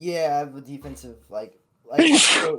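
A single loud sneeze bursts out near the end of a short stretch of casual talk, following a brief pause after someone speaks.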